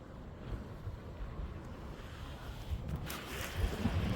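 Steady wind buffets the microphone on a winter beach, with low rumbling gusts and the wash of waves behind it, growing gustier toward the end with no one speaking.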